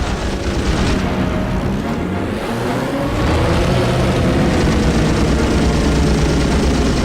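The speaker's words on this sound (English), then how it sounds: "be advised we have Kate torpedo bombers coming in from multiple directions" Kate torpedo bombers in the Pacific air-combat game Heroes of the Pacific, heard as a loud, steady, close engine roar and rumble that swells slightly midway, with no speech.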